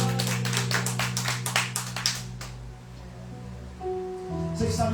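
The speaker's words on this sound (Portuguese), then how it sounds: "Você pode aplaudir ao Senhor bem forte em nome de Jesus?" A church congregation clapping together, a quick run of about a dozen sharp, fairly loud claps over a sustained background tone, then a pause before a faint new burst.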